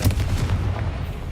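A Confringo spell blast in Hogwarts Legacy, a short booming burst with a deep low thump and rumbling tail, close and fairly loud, with no talk.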